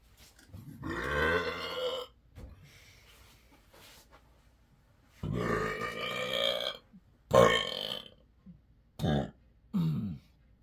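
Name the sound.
burping after drinking Fanta orange soda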